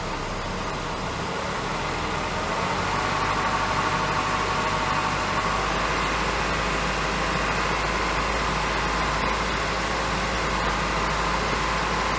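A car engine idling steadily during an electronic throttle control functional test, its idle speed raised as a continuous even hum and vibration that rises slightly partway through.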